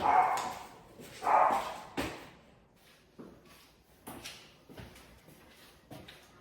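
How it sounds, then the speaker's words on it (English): A dog barks in a few sharp bursts, loud at first then fainter and more scattered, with short quiet gaps between. "barking at seagulls again."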